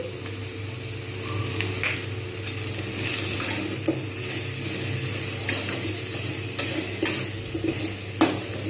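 Spices with salt, dried chili and turmeric fry in hot oil for a spinach ghonto, a steady close sizzle broken by scraping stirs and a few sharp clinks of a spatula against the pan.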